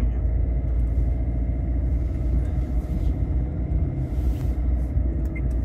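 A Renault Symbol engine drones low and heavy, rumbling steadily and continuously, sounding strained and deep as it lugs in high gear at low revs.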